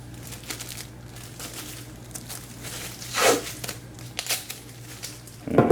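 A plastic baggie is folded over and taped down for tattoo protection, giving soft, quiet crinkles with a couple of sharper rustling bursts and a louder crackle at the end.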